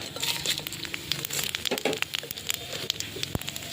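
Bay leaves, dried red chillies, cumin seeds and whole garam masala spices sizzle and crackle in hot oil left from frying potatoes, a close, steady crackling with scattered sharp pops throughout.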